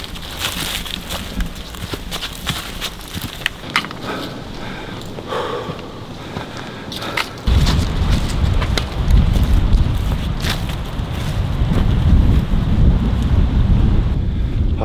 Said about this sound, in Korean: 바람이 매우 세게 불고 있습니다